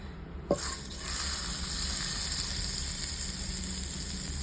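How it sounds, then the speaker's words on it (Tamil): Butter hits a hot pan with a brief clack at the start and then breaks into a steady, bright sizzle that holds evenly until the end, close up, with nobody talking. "இப்போ இதில் வந்து பட்டர் சேர்த்துக்கலாம்"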